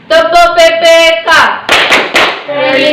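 Children in a classroom perform the Tepuk PPK routine, rhythmic group clapping in patterned bursts mixed with loud chanted voices.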